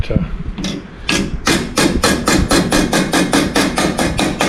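Sheet metal shaped with a hammer against a dolly: a steady run of sharp, ringing blows that settles into a fast, even rhythm, close and loud.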